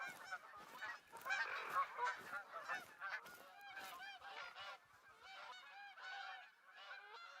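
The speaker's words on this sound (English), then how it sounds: "That's not a normal amount of geese sounds." Flock of geese honking continuously in TheHunter: Call of the Wild, a dense overlapping chorus of calls from many birds, moderately distant and steady throughout.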